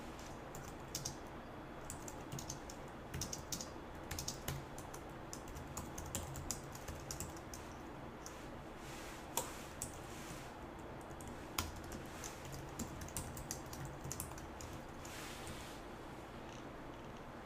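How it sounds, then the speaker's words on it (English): Quiet, uneven bursts of computer keyboard typing, keys clicking in quick clusters with short pauses, nearby and with no voices. "let me go ahead and start typing in the example here."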